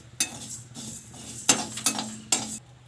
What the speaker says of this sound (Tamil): எல்லாத்தையுமே நல்லா ட்ரையாகவே வறுத்துடலாம்